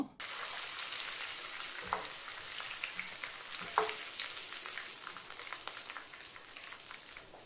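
Steady sizzling of fish frying in hot oil, a continuous crackling hiss with a few louder pops and utensil scrapes.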